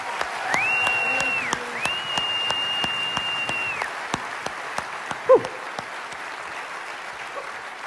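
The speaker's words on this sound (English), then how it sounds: "Give them a round of applause." Applause for volunteers at a Christmas show, fairly soft, scattered claps running under a sustained tone that sounds like a hummed or sung note, with a brief sharp knock midway.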